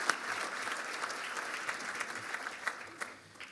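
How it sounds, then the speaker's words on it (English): Steady applause from a seated audience at a Boston Municipal Research Bureau event, honoring the sponsors, a dense wash of clapping that holds at an even level throughout, with a few sharper individual claps standing out near the end. "please join me in a round of applause for our sponsors."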